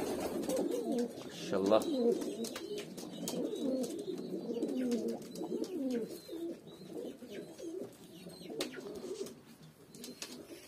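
Hünkari pigeons coo in low, rolling, repeated phrases close by, with soft rustles and an occasional flutter around them while someone speaks briefly.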